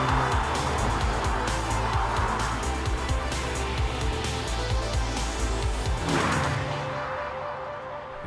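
A Honda Civic Type R with a 315-horsepower 2-litre VTEC engine and front-wheel drive, a loud steady engine roar with rising pitch, close and continuous, fading slightly at the end.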